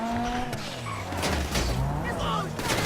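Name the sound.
car driving in video game GTA 5 Online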